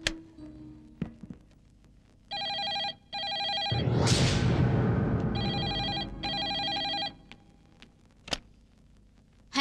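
A telephone rings in bursts of trilling bells, two pairs of rings separated by a swelling whoosh, with scattered clicks and knocks around them.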